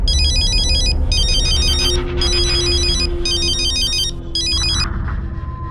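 An electronic phone ringtone plays an incoming call in loud repeating high-pitched bursts, five in a row, over a low background hum, then cuts off.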